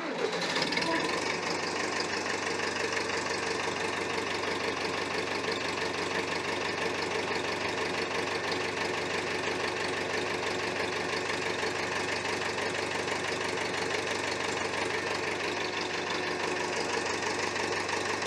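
A David Brown 990 tractor engine idles steadily with the throttle down and out of gear, a continuous loud knocking diesel rumble running throughout without pause.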